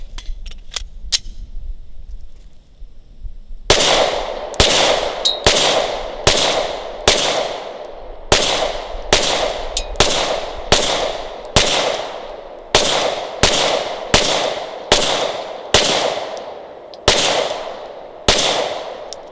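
A Glock 17 Gen 5 pistol fires a long string of sharp, loud shots at a steady, fairly quick pace, about sixteen in all, after a few seconds of quiet handling, with no talking.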